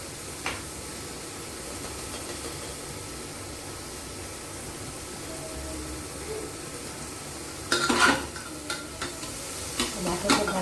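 Hybrid tomatoes cooking down in a pan, giving a faint, steady sizzling hiss, with a few louder scraping stirs near the end.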